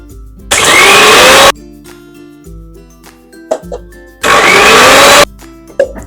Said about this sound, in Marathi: मिक्सरला लावायचं, पहिले जर असंच फिरवायचं आणि मग पाणी घालायचं